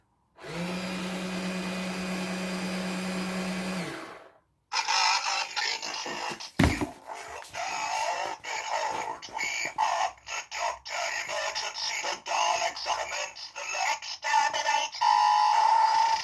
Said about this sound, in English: That's testing the wheel motors.